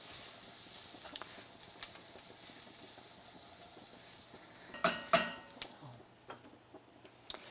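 Rice for mushroom risotto toasting in a hot pan, a faint low sizzle that turns into a few louder scrapes and clatters of stirring in the second half.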